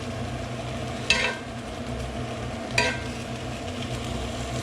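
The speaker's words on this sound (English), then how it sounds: "Now we're gonna put some more olive oil and we're gonna start cooking our veggies." Vegetables frying in olive oil for a Catalan-style beef stew, a steady dense sizzle throughout with two brief sharper crackles or stirring scrapes.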